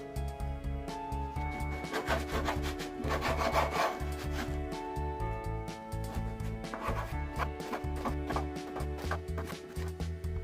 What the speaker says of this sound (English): We just have to cut it half and make it a square.